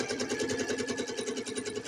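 A sewing machine stitches half square triangle quilt pieces together, its needle running in a steady, fast, even rhythm close by with a continuous mechanical hum throughout.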